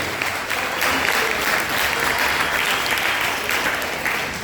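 Steady, dense applause from a crowd continues throughout, evenly loud with only slight swells and a faint murmur of voices underneath.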